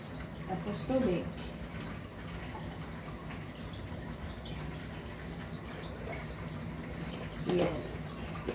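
Water is poured into a celery, green apple, cucumber and lemon drink sweetened with honey, making a soft steady trickle with brief splashy bursts near the start and end, under quiet talk.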